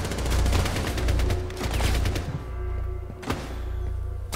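Rapid bursts of gunfire in the video game Rainbow Six Siege, a dense volley of overlapping shots over the first two seconds, then a lull and a single sharp loud report, with low rumbling underneath.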